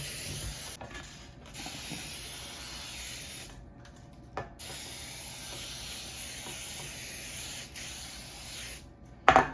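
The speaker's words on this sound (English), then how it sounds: "I'll be spraying it with the baker spray for flour." Steady hissing spray from an aerosol can of baking spray into a cake pan runs for several long bursts with brief pauses, close by, ending with a light clatter.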